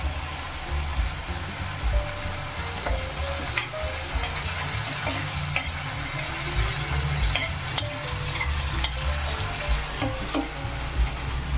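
Tomatoes, green chillies and salt sauté in a pan for a potato curry, a steady close sizzle with scattered spoon clinks and scraping stirs throughout, alone without talk.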